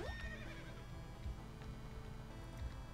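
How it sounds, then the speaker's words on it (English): A horse in the video game Potato Dungeon lets out a loud whinny at the start, followed by quick clip-clopping hooves over a steady background music bed. "See me riding my horse."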